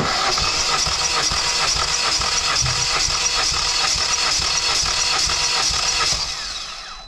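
A Kia Rio engine, a 2011–2017 unit, idles with a steady, dense mechanical clatter and hum, loud and unbroken for about six seconds before tapering off slightly at the end.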